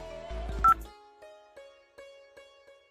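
A phone is dialed: a quick cluster of keypad tones, then a series of evenly spaced beeps, clear and close.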